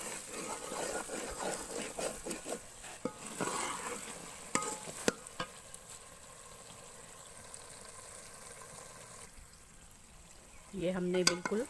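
Semolina stirred and roasted in hot ghee sizzles softly in a village kitchen pan, a steady low frying hiss with intermittent scraping strokes, followed by a louder clatter near the end.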